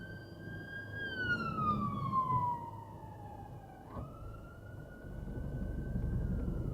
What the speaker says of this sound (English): I had no idea that ambulance was there.